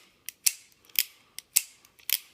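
Pietta 1851 Colt Navy .36 cap-and-ball revolver dry fired without caps: six crisp, close metallic clicks of the hammer and action, loosely spaced in pairs across a quiet background.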